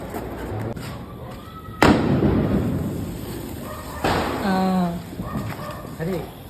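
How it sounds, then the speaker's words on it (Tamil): Sharp, loud firecracker bangs ring out outdoors during Diwali celebrations, a sudden crack followed later by another, with people talking and calling between the blasts. "பட்டாசெல்லாம் எடுத்துட்டு வந்தாச்சு, வெடிக்க போறோம்."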